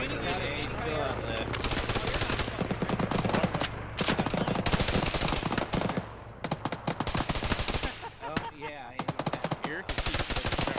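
Rapid machine-gun bursts and single gunshots in a military video game, loud and close, firing in clustered volleys with short pauses, while voices talk over the shooting.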